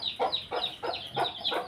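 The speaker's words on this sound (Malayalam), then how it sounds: "ഇതേ അമ്മക്കോഴി" A mother hen with four chicks clucks close by, about five short, evenly spaced clucks in quick rhythm with no other sounds.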